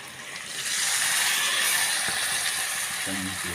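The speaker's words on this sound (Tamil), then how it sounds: "தண்ணி ஊற்றிக்கணும்." Water poured into a hot pan holding eggplant, peanuts and sesame, rising into a loud sustained hiss and sizzle that fades slightly at the end.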